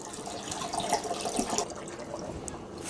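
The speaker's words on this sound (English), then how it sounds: "Fill it up the rest of the way with water." Water runs steadily into a jar of pickles, a continuous splashing pour with faint trickles, fairly quiet and close, with no voices.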